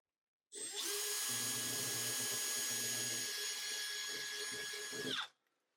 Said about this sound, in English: you'll just take a 3/8 of an inch drill bit, center that up on the hole you marked